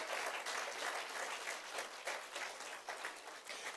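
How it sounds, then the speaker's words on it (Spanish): A church congregation applauds during a sermon, a steady, dense wash of many hands clapping at close range that holds evenly for the whole stretch, with no talk over it. "Denle un aplauso, eso necesita la mujer."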